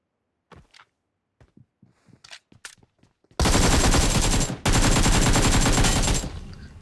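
Shooter video game gunfire: a few scattered quiet shots and footsteps, then two long, loud bursts of rapid automatic fire separated by a brief pause.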